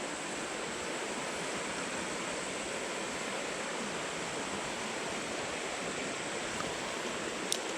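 A small creek flows strongly in a steady, unbroken wash of water noise close by, with no voices over it.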